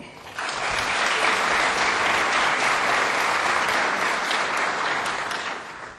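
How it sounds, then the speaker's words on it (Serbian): A studio audience applauds warmly, a dense, even wash of clapping that starts abruptly and holds steady at full strength for several seconds without letting up. "dajme im potrimovku s aplauzom"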